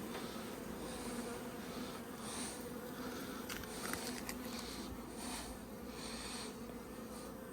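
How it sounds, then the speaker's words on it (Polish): Insects buzz at a beehive where wasps fly around, a steady low drone with faint passing whines drifting in and out, quiet and continuous. "2 osy tu już latają, o matko."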